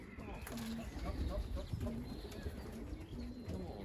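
Racing pigeons coo repeatedly in soft, low calls while landing on a loft platform, close by and over a constant rustling background, with brief sounds of wing movement and someone talking at points.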